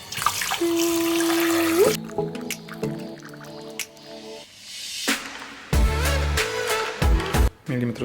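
Water runs and drips onto frozen strawberries before blending, a steady tap-like stream followed by gurgling pours, splashes and squishy thumps, close and fairly loud, with no talk.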